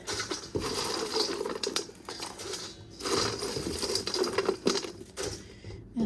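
Popped kettle corn is shaken and tipped from one bowl into another, giving irregular bursts of dry rattling and pattering against the bowl, with short pauses between pours.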